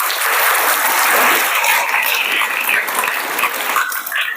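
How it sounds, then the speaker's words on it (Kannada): Loud, sustained applause from a crowd of school students at a government school celebration, filling the whole stretch without a break and fading slightly at the end. "ವಿದ್ಯಾರ್ಥಿಗಳೇ, ಎಲ್ಲರೂ ಜೋರಾಗಿ ಚಪ್ಪಾಳೆಯನ್ನು ಹೊಡೀರಿ."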